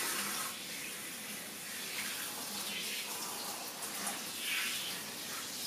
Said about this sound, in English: when I'm rinsing and washing, I'm making sure that I'm really keeping those ears canal free of water